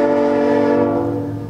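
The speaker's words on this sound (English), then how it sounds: "Oh my gosh, it's a train." A train passing near a home set between two railway tracks sounds a loud, sustained horn that stays steady and then fades slightly toward the end, with no talking over it.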